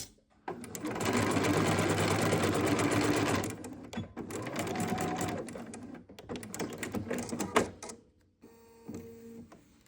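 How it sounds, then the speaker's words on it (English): A sewing machine runs a 1/4 inch seam down the long edge of fabric for a hair bow, backstitching at the ends: a long, loud, steady whir, then shorter stop-and-start bursts and a few clicks. "You are just going to sew down the long edge with a 1/4 inch seam allowance, making sure to backstitch at the beginning and the end."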